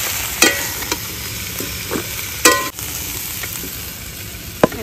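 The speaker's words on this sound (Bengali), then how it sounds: "তো এবার সবজিগুলো ভাজা হয়ে গেছে," Vegetables with peas and capsicum frying in a pan, a continuous sizzle broken by a few sharp clinks and scrapes of a stirring utensil, with no talking.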